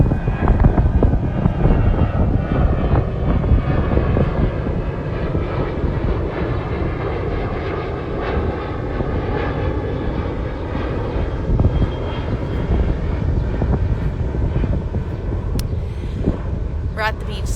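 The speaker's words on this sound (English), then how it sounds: "we have that glorious sound of the airplane taking off about every 6 minutes" A fixed-wing airplane takes off from an airport right beside a beach, its steady engine roar filling the whole stretch loudly and continuously, with a voice present over it.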